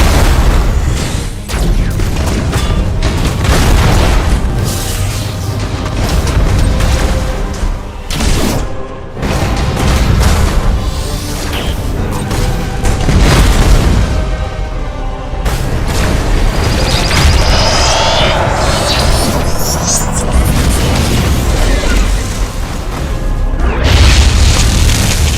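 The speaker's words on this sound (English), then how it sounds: "Thunderhawk bombardment!" Thunderhawk bombardment in Battlefleet Gothic Armada 2 pounds away in a long barrage of heavy booming explosions, loud and continuous, with rumbling blasts rolling over one another and a brief lull near the middle.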